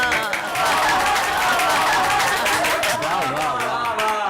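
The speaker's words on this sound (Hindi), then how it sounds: "इनकी शादी के लिए तालियां।" A small gathering claps for a couple's wedding, a dense patter of hands mixed with festive music and chatter, with voices talking over it.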